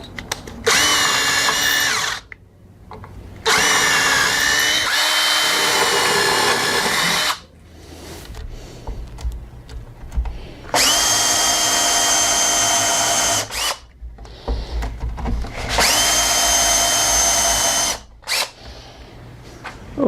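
A cordless power drill drives number 12 stainless steel screws, 1.25 inches long, into a wooden weather station mount, with four long whining bursts separated by short pauses and clicks, close and loud.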